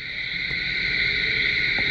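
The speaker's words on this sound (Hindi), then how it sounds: "ये कीड़े मकोड़े का आवाज, ये रात को मुझे नींद नहीं आती इनकी वजह से." Insects chirp steadily through the night: a dense, continuous high-pitched trilling drone that stays loud and unbroken throughout, with no voices.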